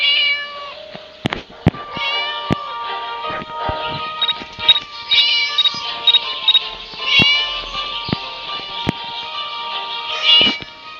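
Cat meowing in the Scary Teacher video game, a run of loud, high, wavering meows and yowls close up, broken by sharp clicks and knocks, with no speech.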